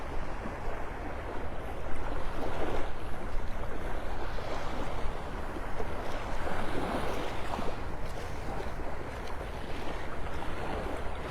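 Wind buffets the microphone while ocean surf rolls in at Vanderbilt Beach in North Naples, Florida, with waves swelling and receding in slow surges under a constant breezy rush and no speech.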